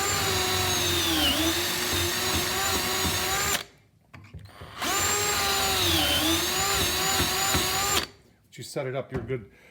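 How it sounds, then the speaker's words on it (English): A power drill drives pocket holes through a Kreg jig, whining loudly in two long bursts, pitch dipping under load, separated by brief pauses with quieter handling noise near the end. "I'm just using the drill bit that comes with it."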